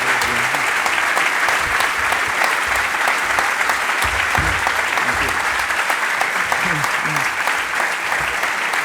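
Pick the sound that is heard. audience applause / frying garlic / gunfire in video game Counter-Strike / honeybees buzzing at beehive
audience applause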